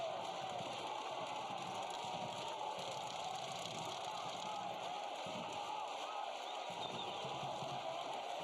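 Soccer stadium crowd in Memphis roaring steadily at a match between Memphis 901 FC and Atlanta United 2, a distant, sustained wall of cheering with no break.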